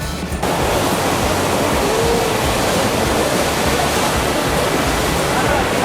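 Constant rushing roar of an artificial waterfall at Cheonggyecheon stream in Seoul, loud and close, a dense steady wash that barely changes throughout.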